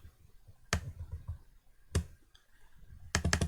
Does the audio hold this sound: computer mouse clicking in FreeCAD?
yes